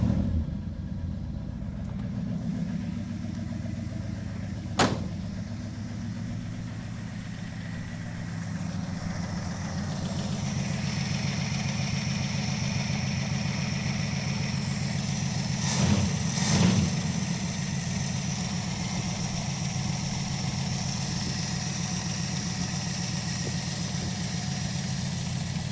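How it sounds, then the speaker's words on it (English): A car engine idles steadily in a garage with a persistent lifter tick, a constant mid-low drone with a couple of sharp clicks and brief bursts over the running engine. "Sounds like that lifter tick's still doing its thing."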